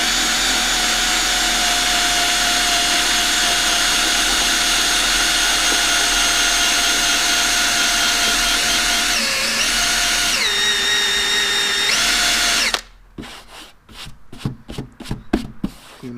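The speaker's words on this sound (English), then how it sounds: "What we're going to do is just take that rubber wheel, run over that area real quick." A drill-driven rubber eraser wheel strips badge adhesive from a car body with a loud, continuous whirring grind whose pitch dips briefly under load, then stops and gives way to scattered rubbing and handling noises.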